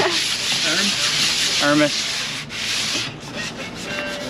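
Rough, scratchy sanding strokes rub back and forth steadily and close by on the surface of a 25-foot Parker SE boat under restoration, with a brief spoken word over the sanding.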